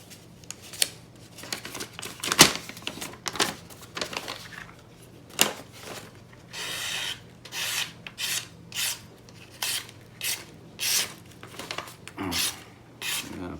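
Spyderco PM2 folding knife making a series of test push cuts, giving short rasping slicing strokes that repeat in a steady rhythm, close and fairly quiet.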